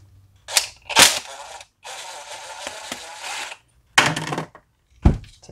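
Metallic tool clicks, a sustained ratcheting scrape and sharp knocks come as the 10 mm carburetor bowl nut is loosened on the underside of a lawn mower, in short bursts with quiet gaps between.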